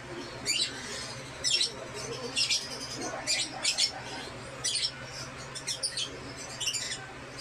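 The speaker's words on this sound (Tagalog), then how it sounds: "Ayan, may mga ibon," Birds chirp outdoors in short, bright bursts at a steady, repeating pace, moderately close over a low background hum, with no talking.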